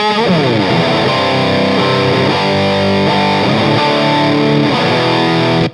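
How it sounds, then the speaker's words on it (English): An electric guitar plays through a Providence Stampede DT pedal with the gain about three-quarters up, giving a dense wall of high-gain fuzz. Loud, sustained chords ring and shift steadily before stopping sharply. "it's just that like wall of fuzz distortion"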